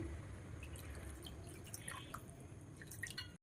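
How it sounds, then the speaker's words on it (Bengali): Water poured into an egg curry (dim bhapa) in a pan: a faint, steady trickle and dripping, heard alone and close, cutting off abruptly at the end. "আমি একটু এবার জল দিয়ে দিচ্ছি"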